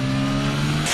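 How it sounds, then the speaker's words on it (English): A Formula 1 car spins its wheels while accelerating out of Les Combes at the wet 2021 Belgian Grand Prix, a steady high engine whine holding one pitch throughout the short, loud burst. "This is the sound of Max Verstappen just wheel spinning out of Les Combes."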